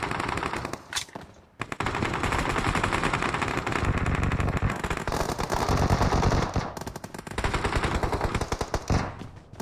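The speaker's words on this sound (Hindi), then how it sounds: "फायर हो रहा है अबे।" Rapid video game gunfire rattles in long automatic bursts, loud and close, with brief gaps between volleys and a sharp single shot near the start.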